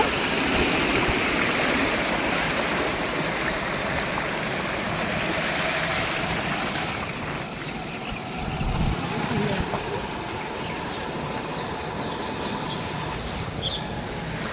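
River water rushes steadily through flooded farm fields, a broad continuous wash of flowing water throughout, with a faint bird or two and some low rumbling in the background.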